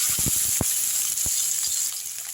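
Onions drop into hot oil with popped mustard seeds, giving a few sharp clatters and crackles at the start, then a soft continuous sizzle close by, no voices.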